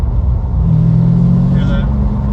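A Corvette C6 Z06 engine idles and rumbles loud and close, its exhaust leak adding a rough, low drone, with a brief higher tone near the end.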